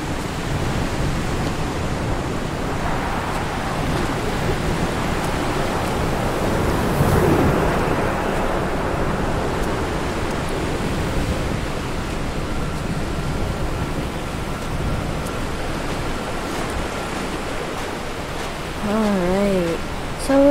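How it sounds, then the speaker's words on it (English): Ocean waves on a beach in the video game Dear Esther: a continuous soft wash of surf with gentle swells, steady and moderately loud, and a faint bird-like chirp near the end. "we're on a beach now. A pretty beach with a pretty ocean view."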